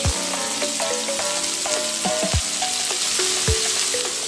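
Three chopped onions go into a hot pan with a little fennel seed for Tamil egg podimas and fry with a steady, loud sizzle, with sharp clinks of a spoon against the pan now and then.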